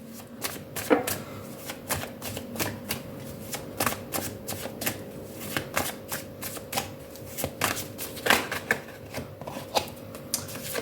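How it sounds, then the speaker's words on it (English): Rapid, repeated riffling of a deck of tarot cards being shuffled, crisp bursts of flicking paper at close range with brief pauses between. "let's just shuffle your cards for you"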